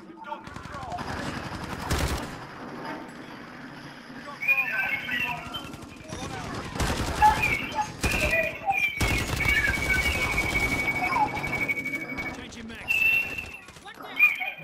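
Call of Duty multiplayer gunfire, with repeated bursts of automatic shots in clusters, some close and loud, others lighter, while a person talks intermittently over the action.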